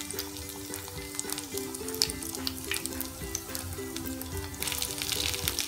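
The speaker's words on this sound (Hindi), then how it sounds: "एक बार में 3 से 4 ही कबाब सेकेंगे" Hara bhara kababs fry in a pan, three or four at a time, with a steady close sizzle and crackle of oil continuing throughout, no talking.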